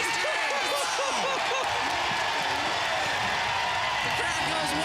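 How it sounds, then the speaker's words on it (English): A large stadium crowd at an X Games motocross event roars and cheers wildly after a backflip, a dense, continuous wall of noise with an announcer talking excitedly over it. "The crowd goes wild."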